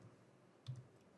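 A single mouse click on a Next button in a web form, one short close tap with a faint follow-up click against a quiet room hush.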